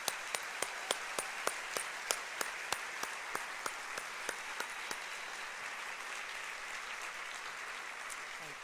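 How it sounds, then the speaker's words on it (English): Audience applause for presenters and judges at a startup pitch event, a dense wash of clapping with a run of sharp, evenly spaced single claps standing out up front that fade away, leaving a softer, thinning patter. "Let's have one more round of applause for the presenters and for our judges."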